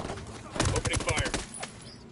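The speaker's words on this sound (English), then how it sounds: "Opening fire." A rapid burst of automatic gunfire rings out in a video game set in Bolivia, aimed at an oil rig: roughly a second of loud, closely spaced shots that then trail off into quieter game ambience.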